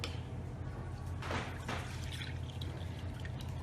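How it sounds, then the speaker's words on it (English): Milk poured into a small pot on the stove: a soft, continuous trickling pour with a couple of brief splashy surges midway, fairly quiet over room background, no talking. "So I'm going to just pour in the milk."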